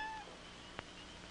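A short, faint cat meow in a quiet room, with a brief soft tap partway through.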